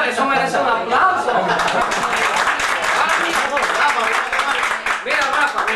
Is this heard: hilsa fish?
no